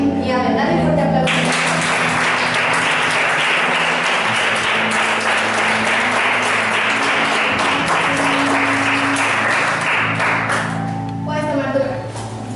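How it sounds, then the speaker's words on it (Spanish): A church congregation breaks into loud, sustained applause that swells quickly and holds steady for about ten seconds before tapering off, with a voice speaking before and after the clapping. "Dale un fuerte aplauso."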